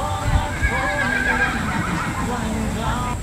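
A horse whinnies loudly near the start, with hooves clip-clopping during a trail horse challenge, and a person speaks over the sounds.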